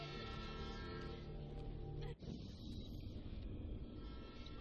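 Train moving in the video game Life is Strange: a steady loud rumble with rail clatter and a horn-like tone, briefly cut near the middle, then continuing as a dense mechanical roar.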